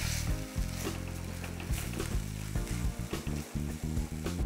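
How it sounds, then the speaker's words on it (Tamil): Amaranth greens sautéing in a pan for soup, a continuous close sizzle with occasional stirring scrapes and clatter, no voice. "கீரை இதில் போதுமான அளவு வதங்கிருச்சு."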